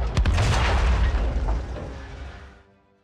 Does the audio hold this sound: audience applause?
no